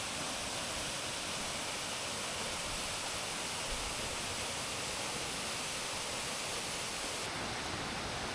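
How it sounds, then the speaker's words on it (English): A waterfall in the Philippines rushes steadily for the whole stretch, a loud, broadband roar of churning water heard up close with no break and nothing else audible over it. "The rushing waters kind of freak me out."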